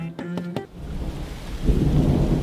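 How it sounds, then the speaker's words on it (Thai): Rain falls steadily in a dense, hissing wash that swells louder toward the end, with brief low tonal sounds at the start, and no speech over it. "ฝนตก"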